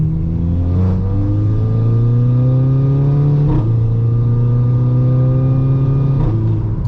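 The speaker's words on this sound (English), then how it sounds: "This was third, throttle all the way down, but this was quite low RPMs" A VW Golf GTI with a slipping clutch is pulled hard at full throttle in third gear at fairly low revs. The engine drone climbs steadily and loudly with brief dips near the shift points, and no one talks.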